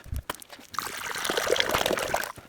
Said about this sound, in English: I'm going to put some water in it first